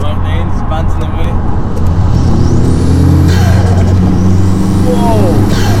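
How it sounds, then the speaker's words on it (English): Tuned, home-built Audi A3 1.8T engine pulls hard under acceleration with a loud, steady drone and rising whine, exhaust pops on lift-off, with a voice talking over it throughout. "every time I let go of the gas, the exhaust pops"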